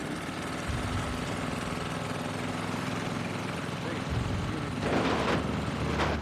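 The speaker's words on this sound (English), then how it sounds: "Got the engine back up." A boat engine drones steadily in The Last of Us Part II video game, with a low idling rumble and a brief rise in intensity near the end. It sounds close and continuous against game ambience.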